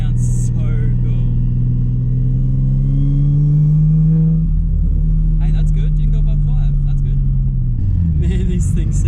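A Nissan R33 Skyline's RB engine revs up and falls back, its tone sweeping upward and then easing down to a lower pitch. A voice may speak faintly over the loud, close engine.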